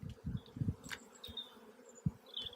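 Honey bees buzzing around an open beehive during an inspection, with faint high whines of individual bees flying past over low handling noises and soft thumps near the hive.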